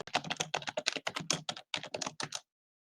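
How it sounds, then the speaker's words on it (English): Fast, loud typing on a computer keyboard: a dense run of sharp key clacks for about two and a half seconds, up close, then sudden silence. "Loud typing."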